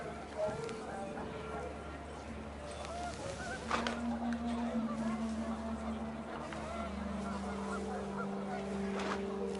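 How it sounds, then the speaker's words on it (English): Panicked geese honk in the What Remains of Edith Finch video game as wind picks up. A handful of faint, scattered honks sit under a voice speaking and a low, steady ambient rumble. "The wind picked up, and panicked geese appeared and quickly went."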